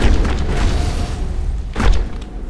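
A grenade blast in Mass Effect gives a deep, rumbling boom that swells and fades over a couple of seconds, with a second low thud near the end and no talk.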